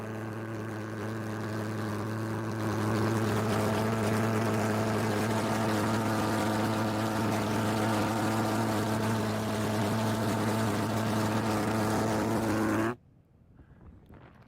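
A homemade engine contraption runs close by with a loud, steady droning hum for over twelve seconds before abruptly cutting off, leaving near silence.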